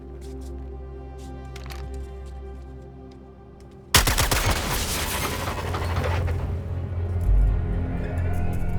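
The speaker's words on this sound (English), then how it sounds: "I say we put many, Many bullets in that junction box to make our way out." Gunfire blasting a junction box in Suicide Squad: Kill the Justice League, a sudden loud burst of rapid automatic shots that keeps rattling for several seconds after a quieter ambient stretch.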